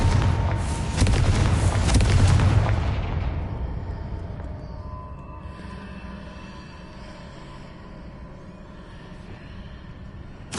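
Confringo blasting spell in Hogwarts Legacy, a single heavy booming explosion that swells loud and near, then fades into a long rumbling tail, with a fresh thump at the very end.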